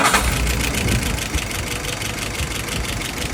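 A YS 637S model engine idles steadily after warming up, a continuous close, loud buzzing drone with no pauses or voices.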